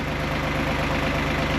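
A tractor engine idles steadily up close, its low mechanical throb running continuously and evenly with a faint knocking pulse throughout, no voices present.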